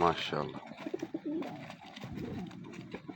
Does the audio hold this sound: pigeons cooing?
yes